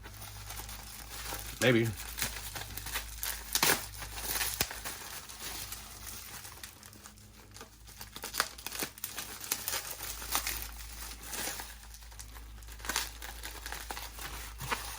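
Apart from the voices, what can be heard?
cutting through packing tape on bubble wrap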